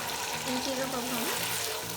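Capsicum and carrots frying with chicken in a pan for chow mein, giving a steady close sizzle with faint stirring throughout.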